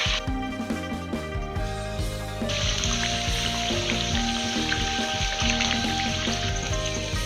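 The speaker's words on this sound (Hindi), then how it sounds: "मैदा की स्लरी में जल्दी से डिप करने के बाद इसे हम कढ़ाई में डाल देते हैं। टू मीडियम फ्लेम पर इसे हम फ्राई कर लेते हैं।" Roti cones dipped in maida slurry sizzle as they deep-fry in a kadhai over medium flame, a steady bright hiss that swells partway through and runs continuously under prominent background music.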